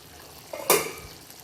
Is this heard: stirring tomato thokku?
yes